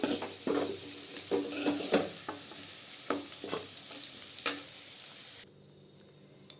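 Sliced bitter gourd frying in oil in a pan while a utensil stirs it, giving a continuous sizzle broken by repeated scraping and metallic clinks against the pan, close and clear, until the sizzle drops away near the end.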